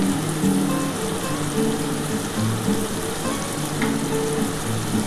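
Spice water poured into hot oil for a tilapia curry sizzles loudly and continuously, a dense crackling hiss held close throughout with no talk.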